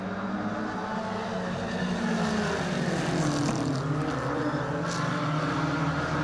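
Mini stock race cars on a circuit during a heat race, with a dense, continuous roar of several engines whining and droning together, loud and steady with no talking.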